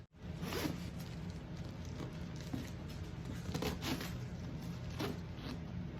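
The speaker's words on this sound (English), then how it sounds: "The zipper is a little fussy, but I think it's because there's paper inside." A Dooney & Bourke monogram hobo handbag zipper is dragged open in several slow, scratchy pulls, close and quiet, with faint rustling between strokes, paper inside the bag.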